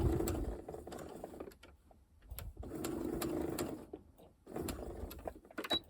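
Sewing machine stitching the center front seam of a lace garment, its motor whirring in three steady bursts separated by short pauses, close and fairly loud with no talking.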